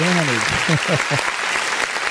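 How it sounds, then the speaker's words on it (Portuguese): A church congregation applauds during a Sunday worship service, broad clapping filling the clip under a voice speaking over it. "Vamos aplaudir o nome do Senhor"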